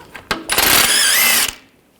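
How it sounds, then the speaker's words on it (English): A power tool, likely an impact wrench with a 16mm socket, spins off nuts while a front axle is removed from a 2009-2017 Volkswagen Tiguan, one loud close burst of about a second with a short rattling tail. "We're going to remove these nuts, use a 16mm socket."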